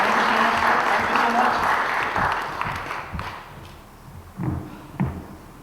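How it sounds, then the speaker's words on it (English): Applause from an audience at a Shakespeare-themed talk: a broad wash of clapping for the first few seconds that thins out and fades, leaving a few scattered claps and thumps near the end. "Please give him a big round of applause"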